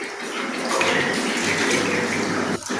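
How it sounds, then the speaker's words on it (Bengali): Water poured and splashing steadily over a small deity idol during a home bathing ritual, a soft continuous gush close by that cuts off briefly near the end, no talking. "তো এখন আমি জল দিয়ে স্নান করিয়ে নিচ্ছি।"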